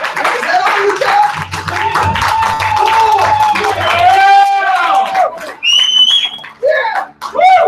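Audience at a live NYC event clapping and cheering, scattered claps and shouts beneath an amplified voice, with short breaks and rising crowd calls toward the end.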